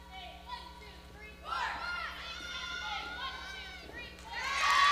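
A crowd of young spectators at a college acrobatics and tumbling meet shouts and cheers, building from scattered calls into a loud sustained roar at the end, with a commentator's voice under it.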